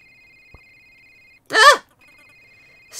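A cell phone rings in the cozy exploration game A Short Hike, a steady electronic tone that breaks for a short chirpy game sound before resuming, clear and close.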